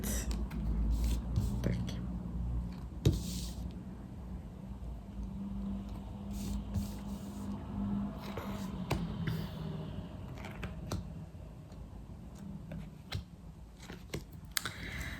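Tarot cards being drawn from a 77-card deck and laid out in a nine-card spread, with soft shuffling, sliding and tapping close by under quiet whispered talk.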